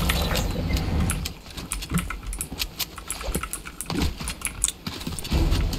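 Computer keyboard keys are pressed rapidly during video game play, a dense, fairly loud clatter of quick taps and clicks with no voices.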